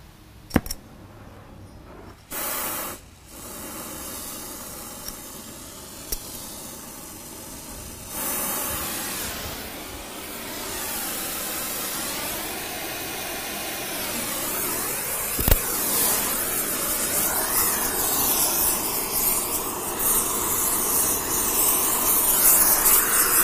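Gas torches burn with a steady broadband roar and hiss that builds and shifts over time, with a few sharp clicks and pops along the way and no talking.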